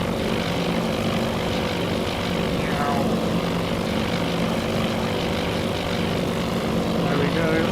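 Propeller aircraft engine drone in the naval strategy game Task Force Admiral, a steady, loud, continuous hum with layered tonal harmonics lasting throughout, with no pauses.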